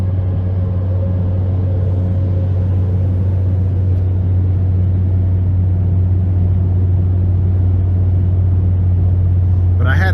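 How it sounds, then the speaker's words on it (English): Steady, loud low engine drone inside a moving 2017 Chevrolet Sonic LS hatchback with a 1.8-liter engine, a constant hum with road rumble underneath throughout, no voices. "the car is just a tad loud"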